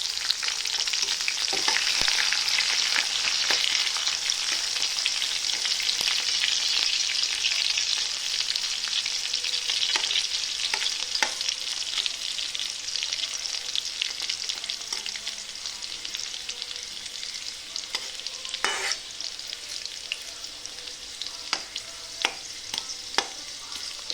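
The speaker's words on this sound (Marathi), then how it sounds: "हा लसूण ठेचून घेतला, ते आपण तेलामध्ये छानपैकी फ्राय करून घ्यायचं." Crushed garlic frying in hot oil for a moong dal dish, a loud continuous crackling sizzle with occasional sharper pops and stirring scrapes throughout.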